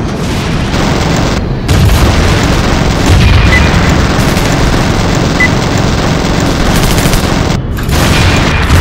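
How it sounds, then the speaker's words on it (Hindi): Gunfire from below in the air-combat game Ace Fighter: a continuous, loud, dense roar of rapid firing and booms that fills the whole stretch without letup. "नीचे से फायरिंग कर रही है"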